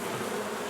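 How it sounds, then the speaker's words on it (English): Honey bees swarming around an open hive frame, a dense, continuous close-up buzz of many wings with no break. "there are a bunch of bees right here"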